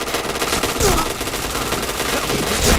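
Video game gunfire rattles in rapid, continuous automatic bursts, loud and close throughout, with a couple of sharper shot accents and faint voices underneath.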